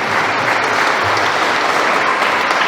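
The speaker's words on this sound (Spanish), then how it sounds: "Fuertes aplausos para estos esposos." Loud, dense applause fills a wedding ceremony as the congregation claps for the newly married couple, a steady continuous roar of many hands close by with no pauses.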